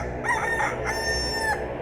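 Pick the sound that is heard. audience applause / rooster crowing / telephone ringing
rooster crowing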